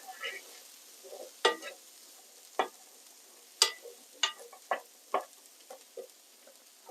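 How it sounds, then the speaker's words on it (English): Onion being stirred in a pan for chicken curry, heard as a faint low sizzle broken by sharp, irregular spoon scrapes and knocks against the pan, close and quiet. "I haven't chopped the onion up very small, but it will fall apart as I stir it."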